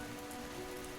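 Heavy rain pours steadily on a surface at night during a horror story, a dense continuous hiss of drops with no voices, loud and close throughout.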